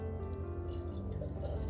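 Chicken broth pouring steadily into a glass container, a continuous close liquid stream with a light splashing texture, no talking.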